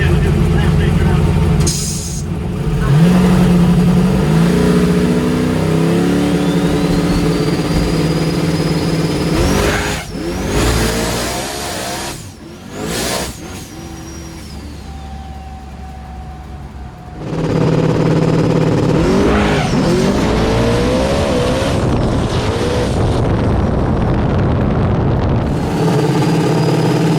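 A small tire no prep race car at a drag strip revs hard and launches, its engine note climbing and falling in loud surges, with people talking and crowd noise throughout.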